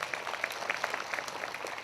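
A congregation at a prayer meeting in Ghaghra claps, a faint, distant patter of scattered handclaps with small irregular peaks and no voices in the brief moment.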